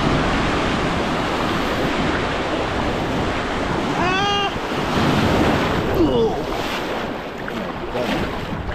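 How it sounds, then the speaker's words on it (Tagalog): Strong wind and rolling ocean surf at a beach in Mexico, a loud continuous roar with gusts buffeting the microphone, and brief voices cutting through the noise. "Malakas yung hangin yun, malakas yung alon."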